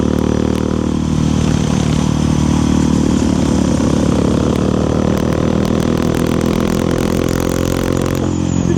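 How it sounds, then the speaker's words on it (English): A motorcycle engine rumbles loud and close, with scattered crackling pops from the exhaust as it revs. "Hope you can hear all the backfires."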